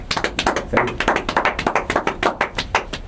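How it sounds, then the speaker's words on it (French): A few people at the wrap of a film shoot clap by hand, distinct individual claps in quick uneven succession, close and fairly loud. "Applaudis."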